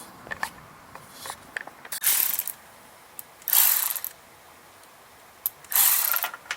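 Ratchet wrench clicks on 10mm bolts of a Honda GX290 engine on a Dewalt 3800 PSI pressure washer, giving short bursts of quick metallic ratcheting at close range, several spaced swings separated by quiet pauses.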